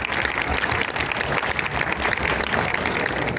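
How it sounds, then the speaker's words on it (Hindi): An audience claps for ten top helpers, a dense, continuous crackle of hands that stays loud and even for the whole stretch with no voices on top. "तो भाई इनके लिए ज़ोरदार भाई तालियां बजाते हैं।"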